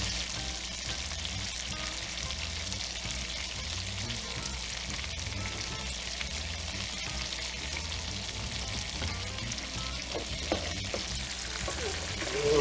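A New Orleans French-style Monte Cristo sandwich with Gouda cheese fries in a pan, a steady, even sizzle and crackle that runs unbroken throughout.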